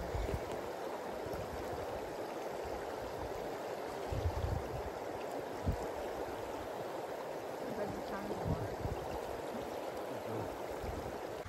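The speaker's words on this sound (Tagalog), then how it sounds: "Enjoy nyo na lang yung tunog ng agos ng tubig at yung scenery." A stream flows steadily nearby, a constant rushing and burbling of water with small splashes, continuous and moderately loud throughout.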